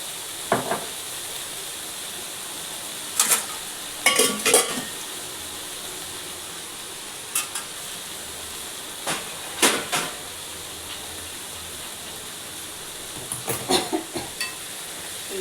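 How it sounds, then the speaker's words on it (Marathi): Gawar bean bhaji with crushed peanuts being stirred in a pan: a steady soft sizzle with scattered scraping clicks of a spoon against the metal, close and alone without talk. "चांगलं मिक्स करून घ्यायचं।"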